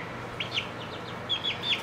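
Several short, high rooster calls chirp in quick bursts over a quiet background, a few rising notes repeated close by.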